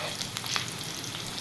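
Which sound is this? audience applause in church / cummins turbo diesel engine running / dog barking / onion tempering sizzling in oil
onion tempering sizzling in oil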